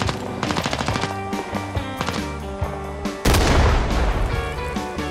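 Sustained machine gun fire in the Vietnam War shooter Rising Storm 2: Vietnam, with loud, dense, rapid bursts running the whole way through and a heavier, louder volley near the end over constant battlefield noise.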